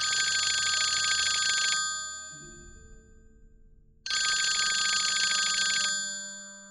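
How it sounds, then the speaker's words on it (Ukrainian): An antique rotary telephone bell rings in two long bursts with a pause between, loud and close, the metallic clatter filling the room. "Це був старий дзвін антикварного дискового телефону."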